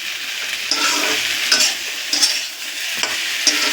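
Dried chillies, bay leaf, panch phoron and cumin fry in an iron wok for rice khichuri, a close, steady sizzle broken by repeated sharp scrapes and clinks of stirring.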